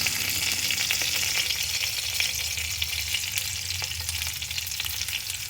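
Green chilies, curry leaves, cumin and mustard seeds tempering in hot oil for a Telugu amaranth and moong dal curry, giving a steady, close, fairly loud sizzle with faint crackles throughout and no talking.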